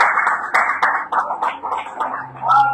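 A church congregation applauding in praise, a short burst of clapping from many hands, fairly loud and close, with a voice speaking over it.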